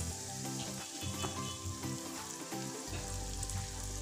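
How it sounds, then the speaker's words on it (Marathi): Surmai fish pieces frying in hot oil give a steady, close sizzle with crackling bursts, a fuller hiss swelling near the end as more fish goes into the pan. "असं झटकून घ्यायचं आणि मग तेलामध्ये टाकून द्यायचं।"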